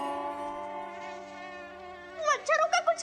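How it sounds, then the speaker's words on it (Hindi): Mosquitoes buzz in a steady whining hum at close range, rising into louder, wavering bursts toward the end. "ये इतने मच्छर अचानक कहाँ से आ गए भाई?"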